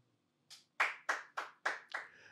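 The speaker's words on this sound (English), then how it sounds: "Clap your hands if you miss me" An audience claps in unison, about six sharp, separate claps in a slightly slowing rhythm, close and fairly loud, with no voices over them.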